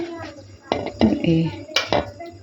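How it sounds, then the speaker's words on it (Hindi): A metal spoon clinks and scrapes against a pot while cooked chicken pieces are lifted out of stock, a few separate clatters over a quiet background, with a voice speaking alongside. "अब इसके अंदर से हम चिकन की बोटियों को अलग कर लेंगे इस तरह से।"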